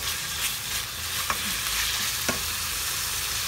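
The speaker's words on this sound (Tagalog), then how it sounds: "Iprito po natin siya." Finely chopped ginger frying in a pan gives a steady broad sizzle, with a couple of sharp clicks from a utensil knocking the pan, close and alone with no talk.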